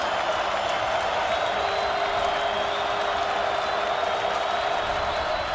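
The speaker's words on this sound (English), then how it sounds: "This crowd starting to get up, making some noise, getting behind their defense" A college football stadium crowd roars steadily during a South Dakota State at North Dakota State game, a broad, sustained wash of cheering and noise from a large audience throughout.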